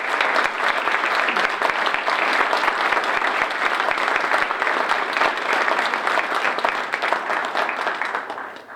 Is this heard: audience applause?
yes